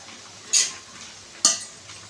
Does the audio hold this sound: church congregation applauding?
no